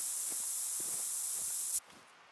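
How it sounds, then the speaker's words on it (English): In the hunting game theHunter: Call of the Wild, a scent spray gives a steady, fairly loud hiss for nearly two seconds and then cuts off sharply, with faint footstep-like rustles underneath. "A little more scent spray."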